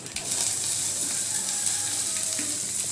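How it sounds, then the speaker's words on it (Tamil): Onion sautéing in oil in a home kitchen pan, a steady continuous sizzle that holds at an even level throughout with faint clinks. "வெங்காயத்தை போட்டு வதக்கிட்டு கீரையை போட்டுற வேண்டியதான்"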